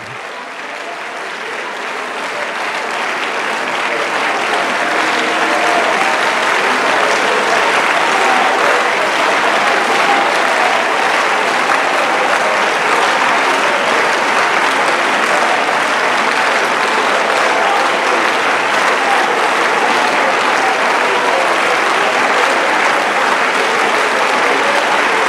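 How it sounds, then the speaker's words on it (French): Worship congregation applauding and acclaiming in church, a dense, steady roar of clapping that swells over the first few seconds and then holds loud and continuous, with no speech. "Le ciel s'ouvre maintenant pour tes acclamations."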